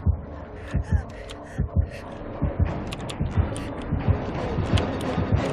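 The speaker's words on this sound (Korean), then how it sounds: "심장 소리 난다." A slow, thudding heartbeat pulses steadily in the Dead by Daylight game, warning that the killer is near, layered over a dense hum of ambient game sound.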